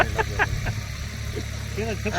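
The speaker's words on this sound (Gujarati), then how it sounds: "આ બાજુ ખેડવાનું કામકાજ ચાલુ છે જો ટ્રેક્ટર હાલે છે" A tractor ploughing a farm field in a Gujarat village chugs with a steady mid-pitched engine rumble. Voices talk over it throughout.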